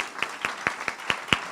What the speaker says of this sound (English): please join me in one more round of applause to congratulate our distinguished professors.